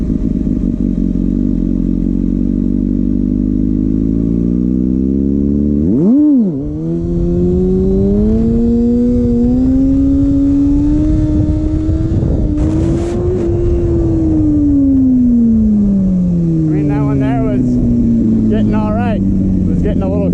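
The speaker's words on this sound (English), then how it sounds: "Still really struggling with controlling the direction of the bike while on one wheel though." Kawasaki ZX6R Ninja sport bike doing wheelie practice, the engine revving up and down in long rising and falling sweeps, loud and close, with a brief throttle chop partway through and wind rumble underneath.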